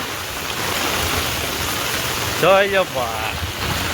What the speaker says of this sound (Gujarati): અમારા ગામમાં પહેલો વરસાદ આવ્યો છે. ફૂલ વરસાદ ભાઈ